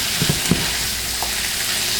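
Shrimp fry in a pan with a loud, steady, close sizzle and a few faint scraping taps, and no voices are heard.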